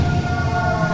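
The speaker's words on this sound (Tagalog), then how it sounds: "Sirena ti mobil dagi." A police car siren sounds as a steady, continuous tone through the whole second, fairly loud and alone with no voices.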